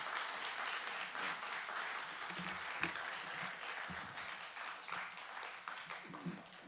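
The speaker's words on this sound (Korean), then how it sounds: "우리 박수로 맞이해 주시기 바랍니다." A church congregation at a women's mission society worship service gives a steady round of applause in welcome, many hands clapping at moderate volume with a few louder claps and faint voices underneath.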